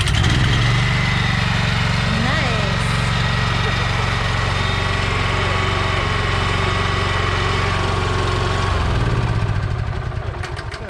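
A BCS two-wheel walk-behind tractor engine running steadily at close range, a loud continuous drone that winds down near the end, with people talking over it.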